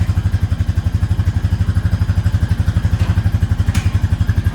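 A Honda Rancher 420 ATV engine idling and running close by, a loud, steady rapid pulsing chug with little change in pitch, with no talk over it.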